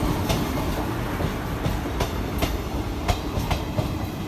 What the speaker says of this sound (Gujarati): સ્ટેશને તો ભાઈ ટ્રેને આવી ગઈ